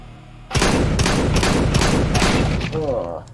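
Gunfire in Counter-Strike: Global Offensive, a loud burst of rapid shots breaking in after a quiet start and rattling on as a dense volley, with a voice talking underneath.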